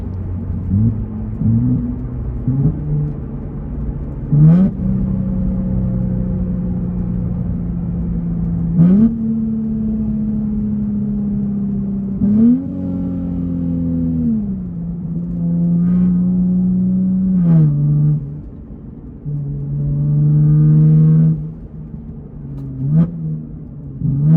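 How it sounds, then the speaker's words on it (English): A 700 wheel-horsepower 2023 Nissan Z pulls hard through the gears, its engine note climbing steadily and then dropping sharply at each of several quick, almost instant shifts, loud and close with no talk. "you can clearly hear and see the transmission react extremely quick, and it's almost instant"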